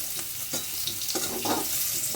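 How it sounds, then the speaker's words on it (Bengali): Potatoes frying in a pan, an even close sizzle with a few soft stirring scrapes, no talking. "আলুটাও আমার মোটামুটি ভাজা হয়ে গেছে"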